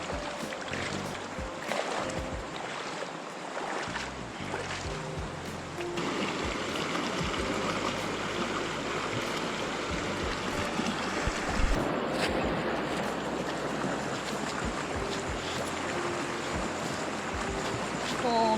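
A river in a village setting rushes steadily past a large riverside rock, a continuous close roar of flowing water with broadband splashing throughout.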